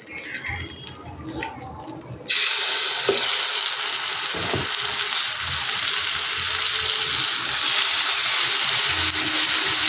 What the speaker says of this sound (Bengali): এবার এই চিকেনটাকে আমি রান্না করে নেব।